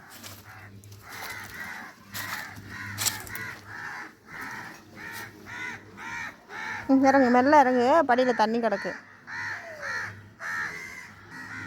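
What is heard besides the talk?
crows cawing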